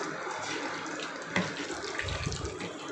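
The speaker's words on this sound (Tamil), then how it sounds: "கொஞ்சமாக தண்ணி விட்டு மிக்ஸ் பண்ணிக்கோங்க." A small amount of water trickles and splashes from a tap into a chicken marinade for chicken 65, a short close splash with a slight thump near the middle.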